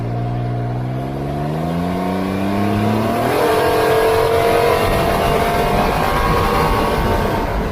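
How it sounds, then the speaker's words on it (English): A Can-Am Ryker three-wheeler accelerates hard, engine note climbing through rising revs and a gear change, loud and close, with a broad roaring wash that may carry some rear tire squeal. "If you just pin it, you get a little bit of a squeal out of the back tire and you go."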